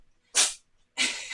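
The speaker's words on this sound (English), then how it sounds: "He's sneezing up a storm all of a sudden." A cat sneezes twice in quick succession, close and sharp, each a short breathy burst with a brief pause between them and no talking.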